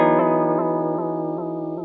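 Guitar chord through a Chase Bliss Warped Vinyl vibrato chorus pedal set to sine waves, a sustained wavering tone pulsing in slow regular swells, close and alone.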